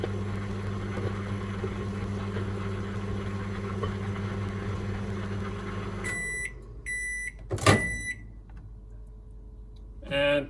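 A microwave oven, newly repaired with a replacement mica plate sheet and fuse after arcing, runs with a steady low hum for about six seconds, then stops. A few sharp beeps and clicks follow, with a brief louder rattle.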